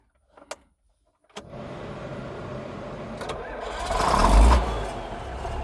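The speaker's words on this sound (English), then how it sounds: "let's get this John Deere started" A John Deere tractor engine cranks and catches after a couple of brief clicks, then settles into a steady, loud rumbling idle that swells briefly before evening out.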